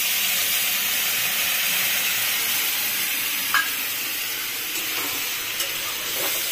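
Ridge gourd and potato with spice mix frying in oil, a steady close hiss and sizzle with a few faint clinks, no talking.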